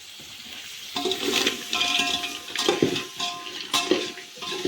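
Crabs sizzle and fry in a pan with a steady crackling hiss, joined by a few clinks and scrapes of a utensil against the metal, close up with no voices.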